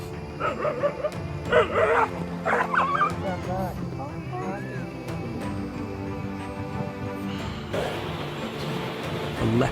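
A mother dog yelping, whimpering and barking as a leopard attacks her puppy, high distressed cries in bursts over outdoor background noise.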